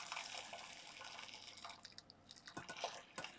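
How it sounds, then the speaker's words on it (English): Water poured onto a bar of African black soap at home, heard as soft, close splashing and dripping with irregular trickles that thicken toward the end. "I'm going to go ahead and pour some water on my soap so it can go ahead and melt"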